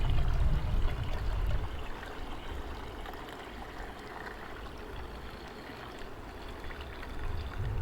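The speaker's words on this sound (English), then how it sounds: "Pour this initial liquid off." Liquid from hydrated, ground-up IC chips is poured off a container in a steady trickling stream, close and continuous, with a heavier gush at the start and no talking.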